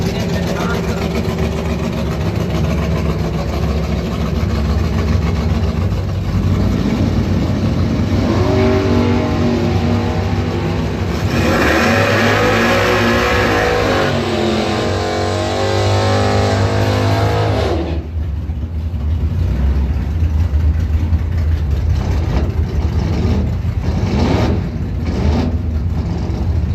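Drag racing cars, a 1972 Monte Carlo and a 1979 car, rev loud and close in a continuous roaring engine drone that rises and swells midway, with a public-address announcer talking over it.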